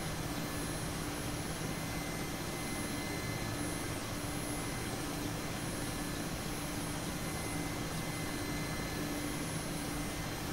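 Turbine engines and rotor of a Mi-8 helicopter in the DCS flight simulator roar at lift-off, a dense, steady, loud whine and rush that holds unchanged throughout with no talking.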